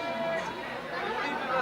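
Passengers chattering in a packed long-distance Indian Railways coach at Jabalpur, a dense murmur of overlapping voices and babble filling the carriage steadily throughout.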